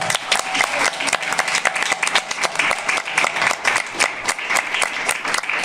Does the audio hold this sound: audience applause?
yes